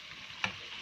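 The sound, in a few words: chicken karahi being stir-fried on high flame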